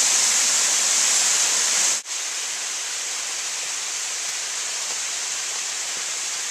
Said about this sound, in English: Another waterfall on the Log Hollow tributary off of 475B in Pisgah National Forest.